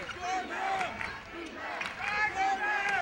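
A crowd at a college basketball game between the Broncs and La Salle roars and shouts steadily in an arena, rising and falling in waves beneath a commentator talking.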